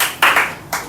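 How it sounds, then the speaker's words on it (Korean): A church congregation claps for the accompanist in a few short, uneven bursts of clapping, each fading quickly, in a reverberant room. "수고해주신 우리 반주자님과 수장에게 큰 박수 부탁드립니다."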